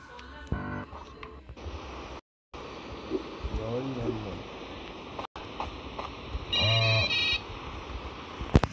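A phone message alert chimes in the horror game Bear Haven 2, a bright repeating ringtone-like tone heard amid droning ambience, with a brief warbling sound earlier in the clip.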